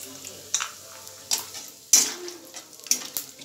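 Peanuts frying with whole garam masala in a pan for a cabbage dish: a soft, low sizzle broken by several sharp clinks and scrapes of a spoon stirring against the metal.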